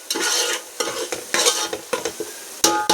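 Pieces of fish are mixed by hand with turmeric and spices, giving wet, squelchy stirring bursts in an irregular rhythm, close and fairly loud, with no talking.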